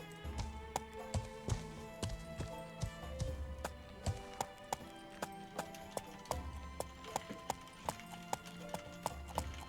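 Horse hooves clip-clop steadily in the Life is Feudal medieval game, a brisk run of sharp, even knocks over a continuous low game soundscape with a faint tonal hum.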